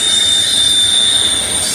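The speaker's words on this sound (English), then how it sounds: "we see the train that's got engines on the back pushing" A freight train passing on the tracks, a loud continuous rumble with a sustained high-pitched wheel squeal running over it, close by and unbroken for the whole moment.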